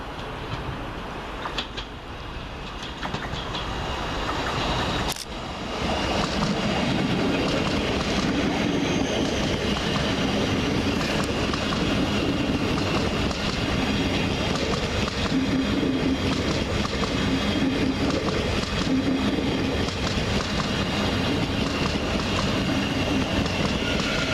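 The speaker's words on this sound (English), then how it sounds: "Another Thameslink Terminator, this time on platform 2, as 700-137 terminates from Horsham." A Thameslink Class 700 electric train, unit 700-137 from Horsham, pulls into platform 2 at Peterborough station to terminate, with a steady loud rumble and rolling wheel noise throughout and a sharp clank near the start.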